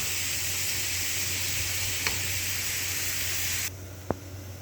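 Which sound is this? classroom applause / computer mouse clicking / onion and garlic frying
onion and garlic frying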